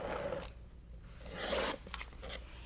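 A rotary cutter slicing quilting fabric along a Creative Grids Perfect 10 ruler, heard as close, soft scraping strokes, two longer drawn cuts with brief rubbing between, no talking.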